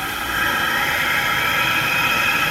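A propane foundry burner roars with its airflow valve opened, a steady, loud broadband hiss and rush that swells slightly at the start and then holds constant with no talking.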